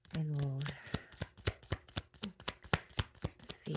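Tarot cards are shuffled and handled close by, giving a quick run of crisp riffling flicks and taps in a steady rhythm, with a voice speaking briefly over the start.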